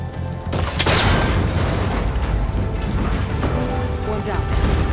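An arrow strikes a cable connector in Horizon Forbidden West, and it breaks with a loud, sharp crash. A heavy rumbling wash of game sound carries on beneath it.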